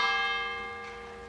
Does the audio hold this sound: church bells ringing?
yes